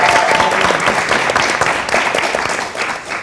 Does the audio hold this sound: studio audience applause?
yes